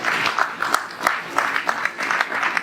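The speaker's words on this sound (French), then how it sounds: "On acclame très fort le Seigneur." A church congregation applauds and acclaims the Lord together, a soft, steady patter of many hands clapping, with scattered louder claps rising and falling, heard at a distance with no clear speech.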